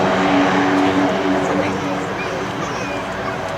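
A C-130J-30 Hercules propeller aircraft taxis on the runway at an air national guard airshow, its loud steady engine drone filling the scene and fading slightly under a narrating voice.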